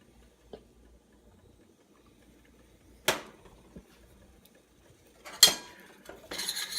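A spoon or whisk scrapes and clinks against a pan while flour is worked into melted butter for a roux over low heat, a few sparse, sharp metallic knocks separated by quiet stretches and a denser scraping burst at the end.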